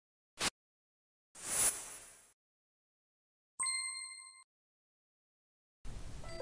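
A single bright bell ding rings out with clear harmonic overtones, sounding for about a second amid other brief sounds, with no talking.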